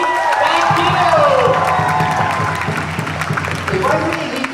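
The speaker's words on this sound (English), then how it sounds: "Can we all give one more clap, please?" A science-show audience, many of them children, breaks into sustained clapping mixed with cheers and whoops, loud and close, while a voice talks over the crowd.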